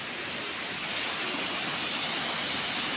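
Water gushing and splashing down like a waterfall on the Seti river in Pokhara, Nepal, a steady, dense, loud rush of white noise that fills the whole clip with no voices.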